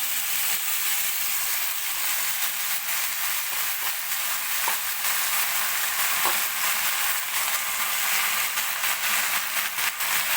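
Washed gongura leaves frying in oil in a pan, a continuous steady sizzle with occasional faint scrapes, close and even in loudness throughout, no voices.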